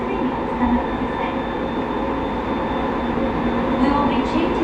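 A Rinkai Line 70-000 series train runs between Osaki and Shin-Kiba, heard from inside the car as a steady loud rumble with a sustained whine and faint rail clatter, continuous and without announcements.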